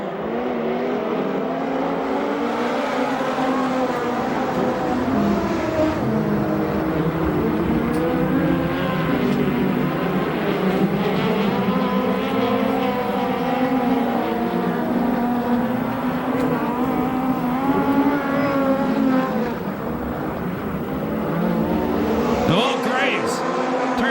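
USAC/CRA sprint cars race around the Perris, California dirt oval, their engines a loud, continuous roar that swells and fades as cars pass, with an announcer talking over it throughout.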